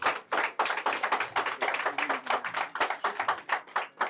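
A congregation at a Sunday church service applauds loudly as a bishop cuts a ribbon, the clapping dense and continuous, rising and falling in rhythmic bursts with no speech over it.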